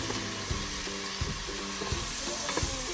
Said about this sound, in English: we're just gonna stir, because we want that butter to seep in through the vegetables